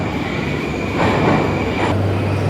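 A Moscow subway train runs with a loud, continuous rumble and rail roar that swells and shifts in tone as it moves along the track.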